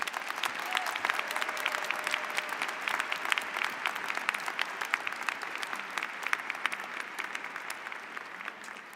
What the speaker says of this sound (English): Please join us in a hearty round of applause.